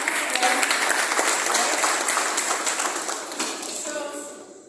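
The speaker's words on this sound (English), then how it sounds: "Please clap for them." A conference audience claps for people just congratulated on getting in, a dense patter of hands that holds steady and then thins and fades toward the end, with a few voices mixed in.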